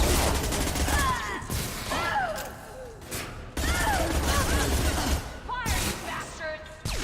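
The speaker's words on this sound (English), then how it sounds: "Oh, that was a nice shotgun action, Jack." Shotgun fire and combat in the Mass Effect 2 video game, bursts of blasts and gunfire in two loud clusters separated by short lulls, mixed with game effects and mechanical sounds.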